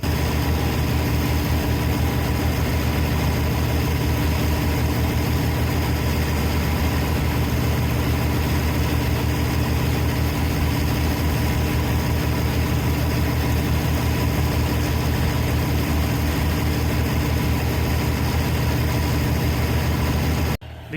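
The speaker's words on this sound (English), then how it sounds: "The silo blower being used to put the corn silage up into the harvester is the International Harvester, or Case IH in this case, 600 forage blower." An International Harvester (Case IH) 600 PTO-driven forage blower runs with a constant heavy mechanical drone while blowing corn silage up into a Harvestore silo, unbroken for about twenty seconds and cutting off at the very end.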